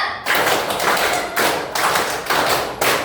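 In an Indonesian teaching-practice classroom, the class claps in unison, with loud, close bursts of many hands landing together in a few separated waves and no talking over them.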